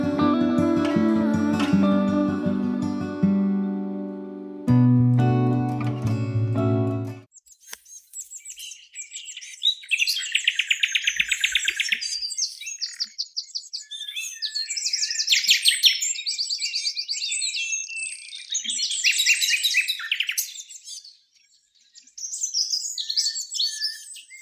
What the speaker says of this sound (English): recorded the local dawn chorus on an early morning walk earlier this month